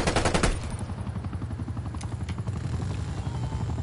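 Heavy booming cannon blasts open the clip, followed by rapid rattling fire and a steady mechanical drone, game-style combat without speech.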